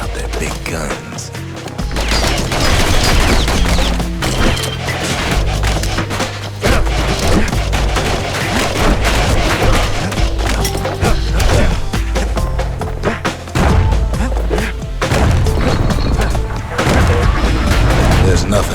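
Heavy guns boom and crack in rapid, continuous volleys in the Bastion game, loud and dense with splintering impacts throughout, layered over game music and narration.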